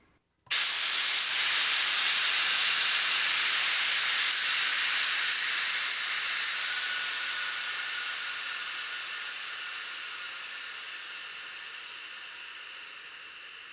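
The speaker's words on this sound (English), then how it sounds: "we'll slowly open the air release valve and just let this naturally come down to a lower pressure" Air hisses steadily out of the opened release valve on a pressure pot used for casting, starting abruptly and loud, then slowly fading as the pressure drops, with no other sounds.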